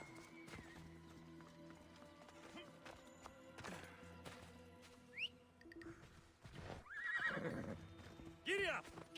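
A horse whinnies and hooves clip-clop amid scattered voices and background noise, with a couple of sharp neighs rising near the end.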